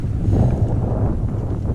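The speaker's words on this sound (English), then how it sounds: "That's a pretty good gust of wind at 30." Strong wind buffets the microphone at Windy Point on Big Bear Lake, a steady low roaring gust with rumbling turbulence throughout, close and loud, with no talking.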